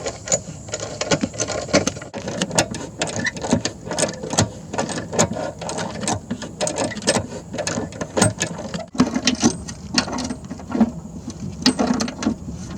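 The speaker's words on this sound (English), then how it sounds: "Using a big wrench as my pull bar, I'm getting the last bolt tightened up." A big wrench is used as a pull bar to tighten the last bolt of a trailer hitch on a cheap fixer-upper car. Irregular metallic ratcheting clicks and clanks repeat close by for several seconds, with no talk.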